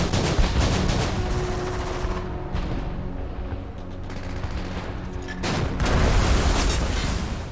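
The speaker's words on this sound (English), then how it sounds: "The destroyer has many guns aboard and has a much higher rate of fire." Destroyer escort's many guns firing rapidly at a surfaced WWII submarine: loud, sustained bursts of gunfire and booms, a brief lull midway, then a renewed heavy barrage.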